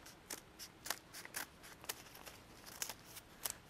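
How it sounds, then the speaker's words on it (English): Scissors snip repeatedly through folded paper, a quick series of crisp, near, moderately loud cutting clicks spaced roughly every third of a second. "take my scissors, it's not strict origami here, and I make one complete straight cut"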